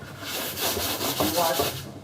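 Sandpaper rubs back and forth over Bondo body filler on a tin teardrop camper, a steady close rasping scrape in quick repeated strokes.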